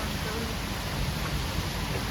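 Heavy rain pours down steadily, a dense, even hiss that fills the whole stretch without a break.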